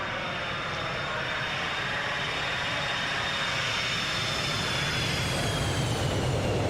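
Flyjsim 727 jet in a flight simulator makes a flyby: a steady, loud broadband engine roar with a faint high whine drifting slightly in pitch, sustained throughout with no talk.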